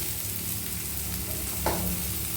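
Finely chopped large onion sizzles steadily in a hot pan of oil, with one brief scrape of a spoon partway through and no voices.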